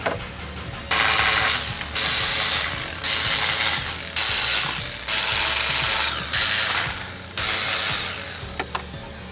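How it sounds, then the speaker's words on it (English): A ratchet loosening the oil filter on a 2013 VW CC clicks in long steady runs, about six strokes with short pauses between them, loud and close. "Loosening the oil filter so we can replace the oil for a service."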